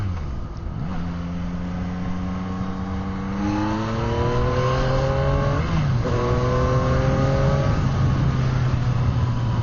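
A 2024 Yamaha MT-09 motorcycle accelerates hard to overtake, its engine note rising steadily in pitch through a gear change, heard close over wind rush, without speech.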